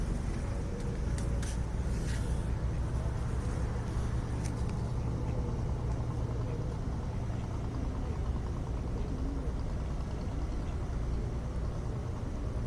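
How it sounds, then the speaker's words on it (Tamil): A boat engine running out on the water, giving a continuous low rumbling drone that stays steady and fairly loud throughout, with a few faint higher rattles early on. "போட் ரன்னிங்கில் இருக்குது பாருங்கள்"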